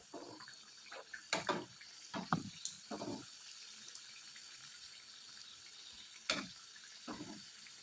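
Onion kachori fry in oil over a low flame, with soft bubbling and bursts of crackle as pieces go in and get moved, quiet and close with pauses between.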